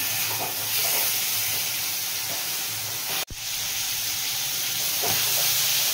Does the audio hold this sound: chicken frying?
yes